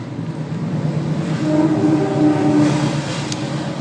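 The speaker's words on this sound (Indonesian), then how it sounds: "Maaf ya, ada kereta lewat." A train passes nearby, a low rumbling roar that swells and fades over a few seconds, with a faint tonal whine in the middle.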